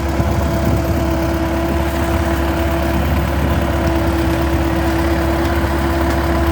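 A tractor engine drones steadily and loudly while it pulls a digging blade through the soil, lifting Nelson apricot saplings out by their roots. The hum is constant, with no voices.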